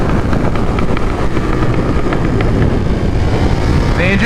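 2022 KTM 1290 Super Duke R engine under riding, a loud continuous roar heavily mixed with wind rush across the whole stretch, with no clear talk over it.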